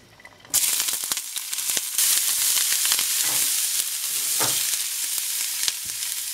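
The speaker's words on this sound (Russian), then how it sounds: "в сковородку, в ту же, обжариваем лук с морковью." Onion and carrot frying in the same skillet used for the mushrooms, a bright steady sizzle that jumps in suddenly after a quiet start and keeps crackling, with scattered stirring scrapes and spits.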